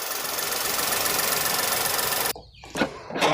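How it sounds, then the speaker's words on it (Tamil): A Volkswagen Polo engine idles, a steady, even running noise that cuts off abruptly partway through, followed by a few brief thumps and rustles. "இன்ஜின் ரன்னிங்கில் தான் இருக்குது."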